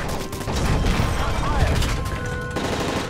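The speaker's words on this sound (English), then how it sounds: "That's gunfire!" Automatic gunfire rattles in bursts in Call of Duty Modern Warfare 3, in an aircraft scene, with loud shots and mechanical clatter under shouting voices.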